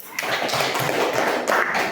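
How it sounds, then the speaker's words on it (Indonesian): A classroom group of students clapping together, a dense, steady burst of applause that fills the room for a couple of seconds. "tepuk tangan dulu"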